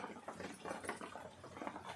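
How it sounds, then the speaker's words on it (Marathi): Rain falls outside a home kitchen in a faint, steady patter with soft irregular drops throughout. "आणि पाऊस पडत आहे"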